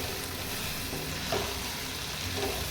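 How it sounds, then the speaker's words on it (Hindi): Chili powder and turmeric masala fry in oil with a continuous, dense sizzle close by and a faint stirring scrape, without any voices. "इसको तब तक भूनेंगे जब तक ये ऑयल नहीं छोड़ जाता अपना।"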